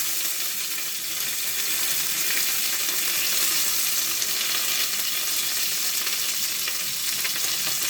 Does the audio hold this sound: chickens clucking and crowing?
no